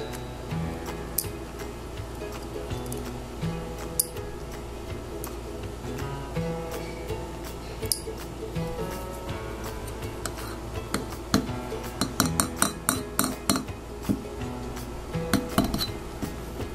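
Small metal laptop screws clinking and ticking against a magnetic parts tray, scattered close taps with a denser cluster of sharp clinks near the end, no talk.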